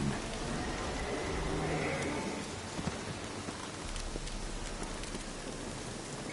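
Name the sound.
rain in a video game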